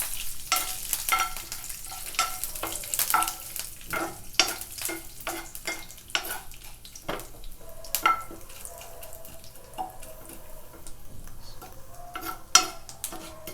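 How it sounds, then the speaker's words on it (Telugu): Curry leaves frying in hot oil, a steady crackling sizzle with sharp pops scattered across the whole stretch and occasional stirring clinks, close and moderately loud, with no talking. "సో దీంతో పాటే మనము కావాల్సిన కరివేపాకు కూడా వేసుకుంటున్నాం."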